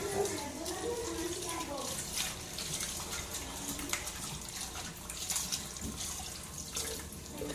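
Water pours steadily from a tap into a basin, a constant close splashing wash with faint voices in the background.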